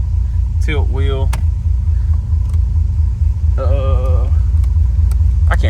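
A 1986 Oldsmobile Cutlass with fuel injection runs after starting, giving a steady low engine rumble that continues throughout, with brief bursts of nearby talk over it.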